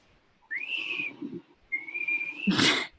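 Someone whistles two long, level notes with a short pause between, followed by a sudden noisy burst at the end.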